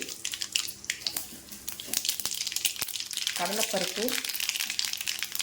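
Mustard seeds frying in hot oil for rava kichadi in a home kitchen, sputtering and popping in quick scattered crackles beneath a voice.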